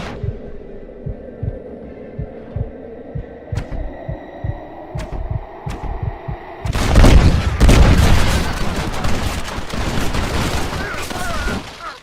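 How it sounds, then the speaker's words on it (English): Gunfire from soldiers in the video game Red Dead Redemption: a throbbing, pulsing drone with a few sharp cracks gives way to a sudden loud, dense burst of rapid shots that continues to the end. "He is riddled with bullets and killed."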